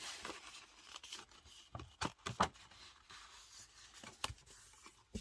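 Paper being creased and folded by hand for a handmade mini album, giving a few sharp, close crinkles and swipes spread unevenly over quiet moments.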